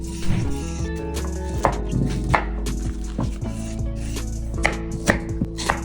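Vegetables for Vietnamese pho are chopped on a cutting board with steady, close knife thuds at a quick, fairly even pace over a humming kitchen background.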